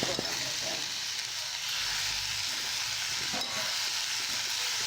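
Peeled baby potatoes tossed whole into a hot pan for a pea masala, a steady bright sizzle and frying hiss running throughout with light stirring scrapes.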